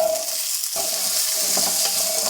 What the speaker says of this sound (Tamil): இதெல்லாம் சேர்த்து கொஞ்ச நேரம் நல்லா வறுத்து எடுத்துக்கலாம்